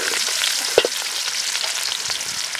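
Onions frying in hot oil with fennel seeds, cinnamon and cloves, a bright continuous sizzle with crackles and one sharp pop near the start, close and fairly loud, with no voices.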